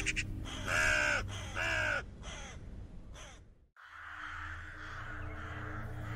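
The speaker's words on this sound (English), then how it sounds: "The tiny shape of the bird circling above me is a dark grey smudge against a lighter grey sky" A crow-like bird calls from overhead in a few loud, harsh caws and then falls silent. A steady ambient hum follows.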